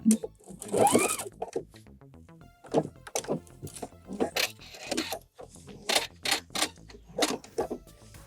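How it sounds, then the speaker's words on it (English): A sewing machine back stitching the seat seam of wide leg pants, with short bursts of rapid mechanical stitching, clunks and pauses between runs, close and clear. "You get to the end, make sure you're back stitching. We want our seat seam to be nice and strong."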